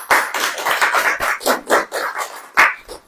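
An audience claps together at a church sermon, a dense burst of hand claps lasting a few seconds, close and loud, with no voices over it.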